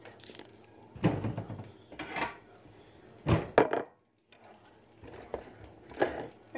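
Browned sausage is scooped from a pan into a bowl with a slotted spoon, making a few clattering scrapes and knocks of metal against cookware with quieter gaps between them.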